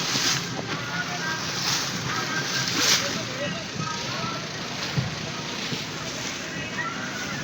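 Family riding a boat across the river at Omkareshwar, with a steady broadband wash of hull noise, water slosh and wind buffeting the microphone throughout, heard close and continuous.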